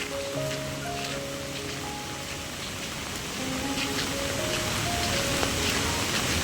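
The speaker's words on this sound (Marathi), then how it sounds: "दोन दिवसात खूपच जोरदार पाऊस पडलाय" Steady, dense hiss of heavy monsoon rain in Konkan pouring down without a break, with faint low tones drifting underneath.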